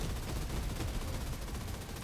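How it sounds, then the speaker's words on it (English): Cannons fire in the video game 13 Sentinels: Aegis Rim as a dense, continuous barrage of rapid booming blasts, steady and fairly loud throughout with no talking. "those cannons are beautiful"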